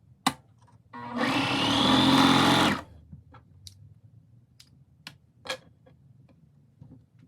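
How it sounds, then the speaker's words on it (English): Sewing machine stitching a short side seam on folded sleeves runs in one loud buzzing burst of about two seconds, framed by sharp clicks and taps before and after, with no talk. "we're gonna sew that short side seam that's right here"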